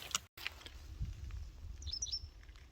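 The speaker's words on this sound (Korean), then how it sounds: "검은등 할미새가 지금 어디쯤에 있는 것 같습니다" A black-backed wagtail calls from somewhere on a foggy river island of gravel bars and willow thicket, a few thin high chirps in the distance over low outdoor rumble.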